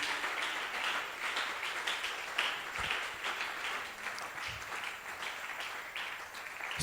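A church congregation applauds the Lord during a French-language service, a steady, moderately distant patter of many hands clapping, with a few sharper claps standing out.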